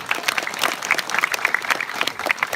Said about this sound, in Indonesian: Ini tepuk tangan.